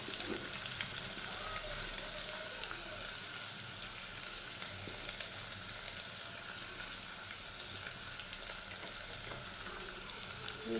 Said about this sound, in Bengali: এটা একটু ভেজে নিচ্ছি